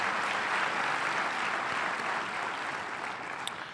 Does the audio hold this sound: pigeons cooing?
no